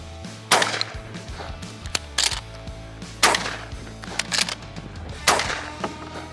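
A Benelli Super Black Eagle 3 semi-automatic shotgun fires target loads, with about five loud, sharp blasts spaced roughly a second apart, each followed by a short metallic clatter of the action cycling.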